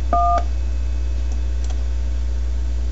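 A single telephone keypad DTMF tone beeps briefly on a Freeswitch and Skype call, a short dual-pitched blip followed by faint clicks over a steady low line hum.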